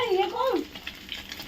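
Desi chuna fish, a large batch, frying in hot oil: a steady crackling sizzle under a voice talking over it at the start.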